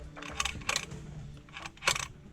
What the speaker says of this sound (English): the throttle body is making a really weird clicking sound